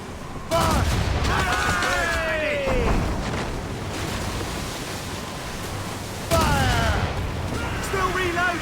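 Two heavy booming ship cannon blasts in Assassin's Creed Rogue, each followed by rumbling noise and shouting voices over a constant noisy background.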